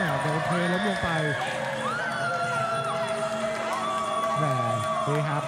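Crowd at a Muay Thai bout cheering steadily for the blue corner fighter, a dense continuous roar of voices with whoops rising and falling, while a commentator talks over it.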